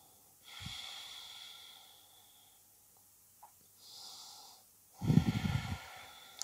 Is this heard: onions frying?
no